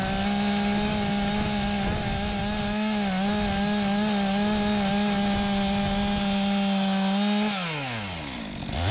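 A chainsaw runs loud and close, holding a steady whining drone as it cuts the tops of logs flat, then revs down at the end.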